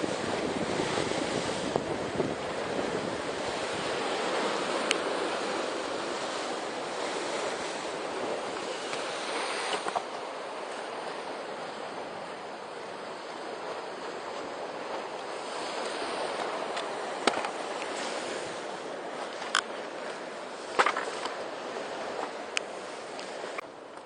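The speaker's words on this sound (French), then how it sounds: "Apparemment, c'est les vagues qui tapent contre la roche." Ocean waves crash and wash against rock in a continuous, rushing roar, with gusts of wind buffeting the microphone and a few sharper splashes standing out near the end.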